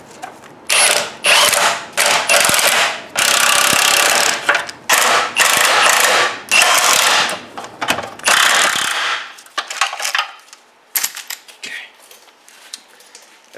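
An impact wrench tightens the subframe bolts on a Honda Accord during a rusted subframe replacement, firing several loud, rattling bursts in a row, then fading into quieter mechanical clatter.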